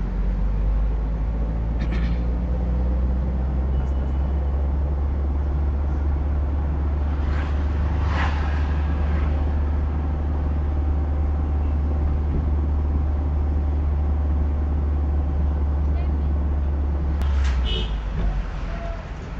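A car engine runs steadily through a driving lesson, with a loud, even low rumble throughout and a slight drop in level near the end.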